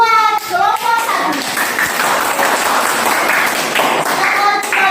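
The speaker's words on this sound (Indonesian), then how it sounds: "tepuk tangan buat kelompok 1" Classroom applause for a student group at a junior high school, a short burst of many hands clapping with children's voices chattering over it.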